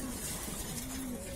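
A female green gola pigeon coos in a short, low, drawn-out call, close and fairly quiet against steady background noise.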